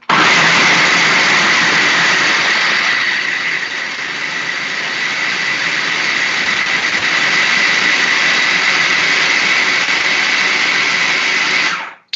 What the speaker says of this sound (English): I'm going to put this on the food processor, and we're going to let this rip.